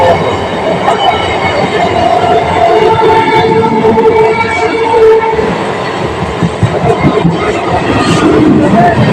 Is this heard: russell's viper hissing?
no